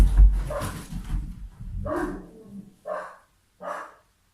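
Several dogs bark indoors in a house, a cluster of loud, sharp barks followed by three spaced single barks that fade toward the end.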